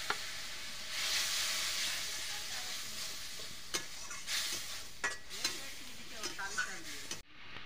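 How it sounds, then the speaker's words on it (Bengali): Spice paste with chili powder frying in a wok for a fish dish, soft steady sizzling broken by several sharp scraping strokes of a spoon being stirred, fairly quiet and close. "এই যে মশলাটা ভাজা হয়ে গেছে।"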